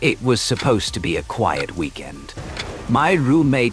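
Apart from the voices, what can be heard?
None of the usual background noises is heard.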